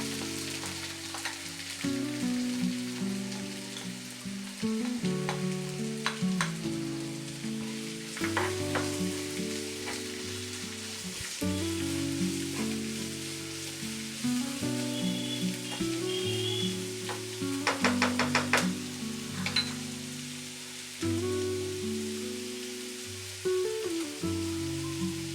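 Onion fries in oil in a pan on low gas for paneer bhurji, a steady close sizzle with stirring scrapes and clinks of a spoon against the pan recurring throughout, no talking.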